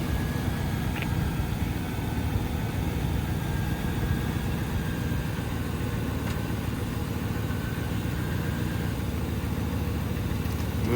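A 2002 Lincoln Continental with a V8 engine idling at a police auction, a steady low rumble that holds even and unbroken throughout.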